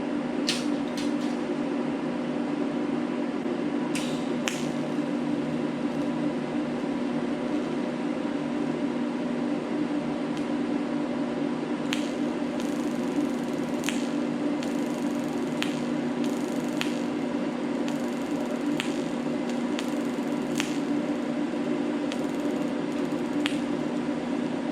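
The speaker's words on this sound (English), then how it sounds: "I'm fixing to try and get this welded up" Welding on the driver's side roof of a car: a steady crackling electrical hum runs throughout, broken by sharp clicks and bursts, close and continuous, with no talking.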